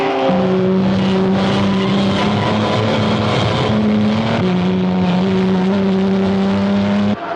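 Racing cars roar along a track in a close race for the lead, several engines droning loudly and steadily with shifting pitch as they run into the straight, no voices over them.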